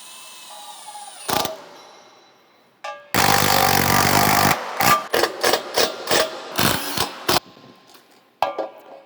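A power drill drives fasteners into a cable rail corner post: one long whirring burst followed by a run of short, evenly spaced driving bursts, loud and close with quiet gaps between.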